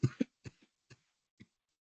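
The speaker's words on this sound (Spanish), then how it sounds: "les pido 1000 perdones por la tos" A short burst of several dry coughs from a lecturer, quick and fairly close, tapering off into quieter single coughs with silence between.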